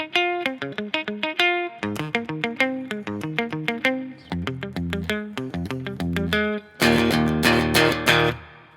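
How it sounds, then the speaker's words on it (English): Electric guitar plays a riff, with a run of plucked and strummed notes, and it ends in loud, full strummed chords. No one speaks over it. "And all put together, it sounds like this."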